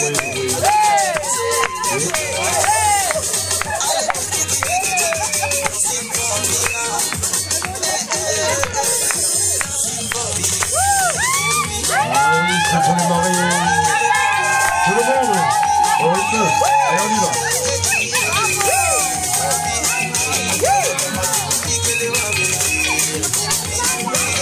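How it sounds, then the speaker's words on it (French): Wedding guests cheer, whoop and shout loudly and continuously in a lively crowd at a wedding in Bondy, France, with children's voices and babble mixed into the steady din. "Les applaudissements, s'il vous plaît."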